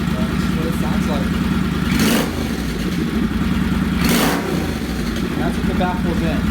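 A 2011 Suzuki C50T with a newly installed aftermarket exhaust rumbles loudly at close range, idling with a steady low thump and blipped twice into sharp revs; someone talks over it.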